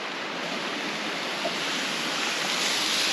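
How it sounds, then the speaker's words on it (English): Fresh water of Cow Creek, a stream near Santa Fe, New Mexico, flows in a steady, broad rushing wash. It is close and even, with no voices. "We actually were able to find fresh flowing water."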